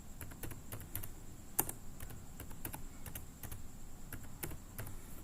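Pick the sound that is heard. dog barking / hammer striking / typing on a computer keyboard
typing on a computer keyboard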